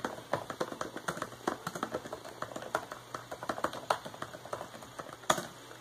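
Fingers type on a Lenovo N22 laptop keyboard, a quick uneven run of close, light plastic key taps with occasional firmer strikes, heard alone.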